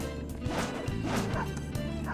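A dog barks repeatedly in the video game Persona 5 Royal, the yaps standing out over dense, continuous game music and effects.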